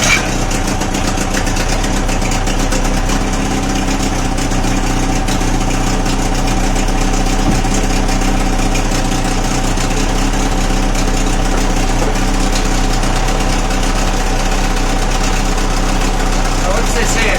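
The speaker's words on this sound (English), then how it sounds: "now we know the motor's running" An old outboard boat motor runs steadily at idle, a loud continuous droning hum with a faint knock and vibration, unbroken throughout and close up with no talking.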